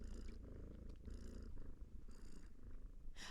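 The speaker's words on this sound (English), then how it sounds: "I'm currently having a sound playing that has a cat purring" A recorded cat purr plays as quiet ambient sound during a co-working stream, with a soft, steady rhythmic rumble that swells and dips in regular breaths, faint and alone.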